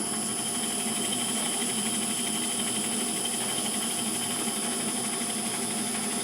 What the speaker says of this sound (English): Start the lathe up on slow speed and start winding.